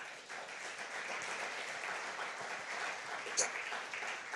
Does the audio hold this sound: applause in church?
yes